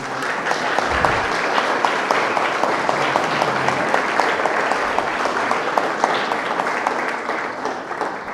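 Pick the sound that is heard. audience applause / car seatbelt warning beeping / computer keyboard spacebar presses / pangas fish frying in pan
audience applause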